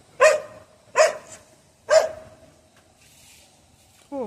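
An Australian kelpie dog barks three times at an even pace, loud and close, with quiet pauses between barks and a short fainter sound at the end.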